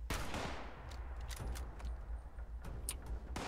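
Gunfire in Fallout 76 crackles in rapid bursts and separate sharp shots, fairly close and loud, with brief pauses between volleys and no talk.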